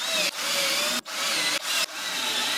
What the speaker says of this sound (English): we will fasten the 4 corner brackets using 6 more black